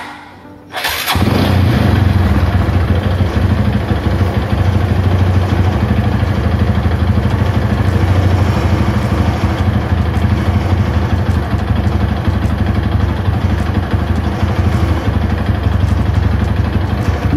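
A motorcycle engine fires up abruptly after a brief silence during a charging-system check, then settles into a loud, steady close-up idle that runs without a break, with no speech.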